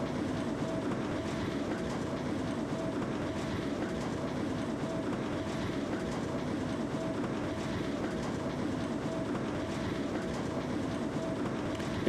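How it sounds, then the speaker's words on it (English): A Melbourne train runs steadily in a Trainz Simulator game, a continuous loud rumbling roll with faint rhythmic wheel clatter and a constant motor whine, heard alone without talk. "It does sound like a Melbourne train"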